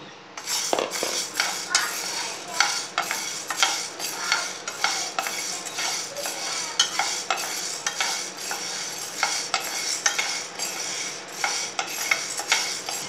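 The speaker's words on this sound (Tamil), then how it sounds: "இப்போ வந்து நம்ம பாசிப்பயரை லைட்டாக வறுத்துக்குருவோம், ஃப்ரை பண்ணிக்கிடுவோம்" Green gram being lightly dry-fried in a pan, heard as steady scraping and stirring with a utensil, metallic clinks against the pan and a faint sizzle, close and continuous with no talking.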